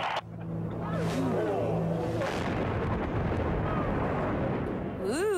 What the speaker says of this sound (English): that was a section of the Liberty Memorial Bridge in North Dakota that came down with a big bang